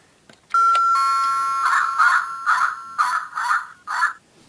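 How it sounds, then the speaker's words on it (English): Toy doorbell from a Lego hillside house set rings with a bright electronic chime: one clear tone, then a run of six pulsing ding-dong notes, close and loud with no talk. "One of my favorite features about this house is the doorbell."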